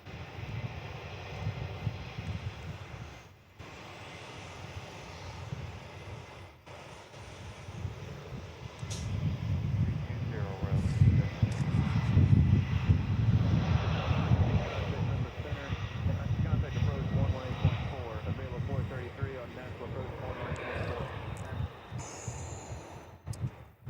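A jet airliner rolls down the runway for takeoff at Nashville International Airport, its engine roar building from a distant hum to a loud sustained rumble over about twenty seconds.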